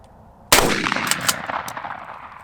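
A single loud blast from a Winchester SXP Waterfowl 12 gauge pump-action shotgun firing 7.5 shot, a sharp crack after quiet that rings out and decays over about two seconds.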